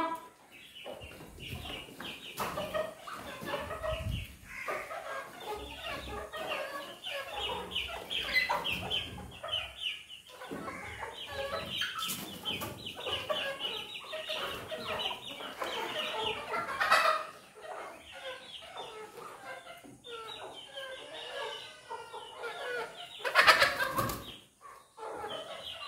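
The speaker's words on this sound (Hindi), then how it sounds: "सब अलग अलग नस्ल की मुर्गियाँ हैं।" Several hens cluck and cackle in a steady, busy chorus, close by, with occasional louder squawks rising above the flock.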